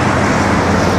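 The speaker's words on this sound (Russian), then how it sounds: "Шум машин мешает." Steady, close traffic noise from passing cars near a newly built public square in Anapa, a continuous broadband roar with no break across the whole second.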